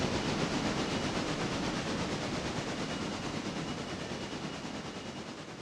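A branch train in the Railroader game rolls along with a steady, dense rumble and hiss that stays loud throughout and eases slightly toward the end, with no talking.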